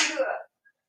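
A single sharp sneeze, close and fairly loud, bursting out and cutting off abruptly, followed by near silence.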